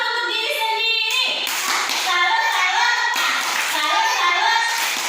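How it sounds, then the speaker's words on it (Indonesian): Young children in a classroom lesson clap for themselves in bursts, a loose patter of small hands mixed with excited voices and chatter, the clapping swelling and fading twice over a few seconds. "Tepuk tangan untuk diri sendiri."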